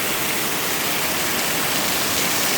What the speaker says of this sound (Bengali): প্রচুর বৃষ্টি হচ্ছে আমাদের এখানে,